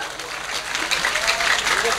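Audience applause at an Islamic sholawat gathering marking an anniversary event at UIN Walisongo, a dense steady clapping from a crowd that lasts the full two seconds at fairly close range.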